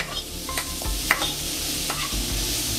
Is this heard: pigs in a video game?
no